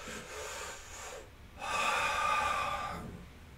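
Slow, deep breathing during a standing yoga pose with the back leg straightened and arms raised, heard as a long airy inhale with a short pause in the middle, close and fairly quiet.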